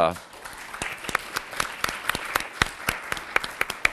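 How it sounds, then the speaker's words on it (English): An audience at a workshop panel applauding a professor, a moderate scatter of individual hand claps that swells briefly then thins to sparse claps, heard fairly close in a quiet room. "They were applauding you."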